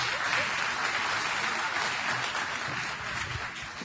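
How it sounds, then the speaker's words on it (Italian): An audience at a business association's anniversary event applauds a woman stepping onto the stage, giving a continuous, even roar of clapping that holds steady throughout and eases only slightly near the end. "quindi un grande applauso Lucia"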